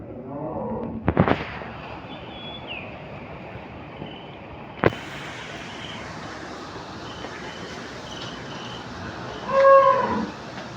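A young bull calf and other cattle low on a dairy farm with milk cows, giving a couple of moos at moderate distance. Sharp knocks and a quiet, steady background run between the calls.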